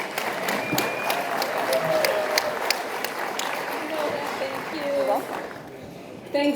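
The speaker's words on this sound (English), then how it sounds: "Please give them your attention and your cheer" Applause and cheering from an audience at a chamber of commerce business awards event, a sustained crowd clapping with a few whoops, fading toward the end as a voice begins to speak.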